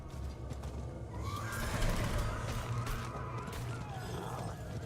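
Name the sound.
horse neighing in Diablo 4 video game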